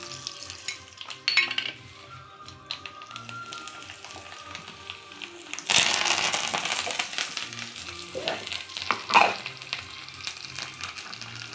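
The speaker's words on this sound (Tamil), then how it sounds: "கடுகு போடுறேன். இப்போ இதில் வந்து தாளித்து கொட்ட போகிறேன் நான்." Mustard seeds with urad dal, curry leaves and asafoetida tempering in hot oil, heard as a soft continuous sizzle with intermittent spoon scrapes and pan clatter, plus a sudden louder burst of frying near the middle.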